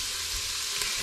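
Chopped onions frying in oil in a pan while soup is being made, a steady, close, hissing sizzle running evenly throughout with faint low handling bumps, no talking.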